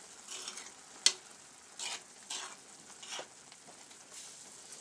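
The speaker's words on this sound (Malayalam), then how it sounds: "ചെറുതായിട്ടൊന്ന് ഇളക്കി നമുക്കിത് ഓഫ് ചെയ്ത് വയ്ക്കാം" A spoon stirs colocasia leaf curry (taal curry) in a pan, giving a few soft scraping strokes with a sharp clink over a faint, steady sizzle, close and quiet with no talking.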